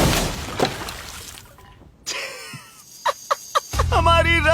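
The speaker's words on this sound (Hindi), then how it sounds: "हमारी रस्सी टूट गई और सारा पानी जमीन पर बह गया।" A rope snaps and a heavy bag of water drops and splashes onto the ground, a sudden crash and gush followed by sharp clatters and spilling, mixed with voices.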